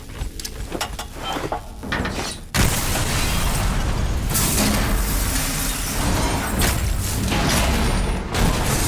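A grenade blast on a tower in Call of Duty: Black Ops 3 hits as a sudden loud boom about two and a half seconds in, then rolls into sustained heavy rumble and battle noise that runs to the end.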